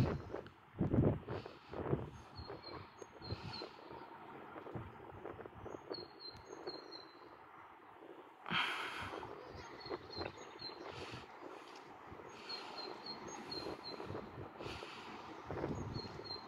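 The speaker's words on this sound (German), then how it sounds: "Ach ja, es ist sehr windig draußen." Wind gusting outdoors and buffeting the microphone with low rumbling surges, with a strong burst partway through, while small birds chirp faintly in the background.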